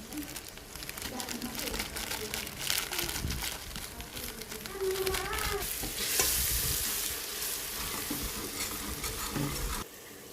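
A chopped tomato and two spoons of Everest Shahi biryani masala fry in a pan for Indrayani rice. Loud, continuous sizzling carries crackles and scraping stirs, and the hiss brightens briefly near the end before it drops off.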